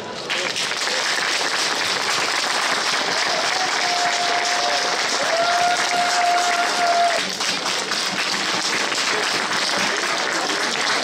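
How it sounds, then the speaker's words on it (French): A crowd at a village evening light festival, Albé en habit de lumière, applauds loudly and continuously, a dense even wash of clapping with a brief whistle-like tone drifting through the middle. "tout le monde va t'applaudir très fort"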